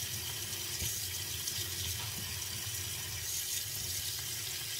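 Kitchen tap running while the water heats up, a steady hiss of flowing water into a sink, even and continuous throughout with no voices.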